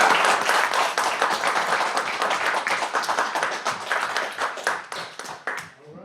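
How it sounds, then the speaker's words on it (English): A round of applause at a veterans' Golden Age and Wheelchair Games awards ceremony: many hands clap steadily and fairly loudly for about six seconds, thinning slightly toward the end. "So we want to give Cedric a round of applause."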